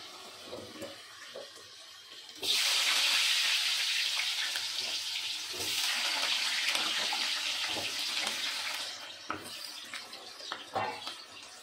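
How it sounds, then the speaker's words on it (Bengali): Potatoes for an ichor (young jackfruit) dish frying in hot oil in a kadai, a loud steady hiss bursting in suddenly and holding for several seconds before dropping back to quieter crackle. "এই পাশে কড়াইতে তেল এসে গেছে, এখন এতে আলু ভাজতে দিয়ে দেবো, ইঁচড়ের আলু।"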